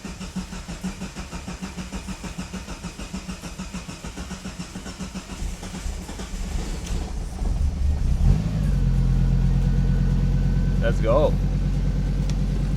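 A Miata fitted with a five-cylinder engine cranks with a rapid rhythmic chatter, fires up with a brief rev and settles into a loud, steady idle, with a voice speaking briefly before it catches.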